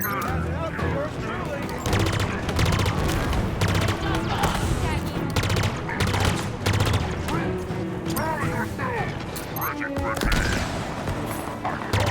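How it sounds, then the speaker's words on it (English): Dense gunfire fills a Halo Infinite firefight: rapid bursts and repeated shots come loud and close, almost without pause, with a voice speaking over the shooting. "Whoa, I did not mean to shoot."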